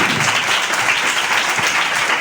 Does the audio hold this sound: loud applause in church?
yes